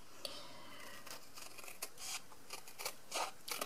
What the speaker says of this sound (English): I want to cut to the inside of this score line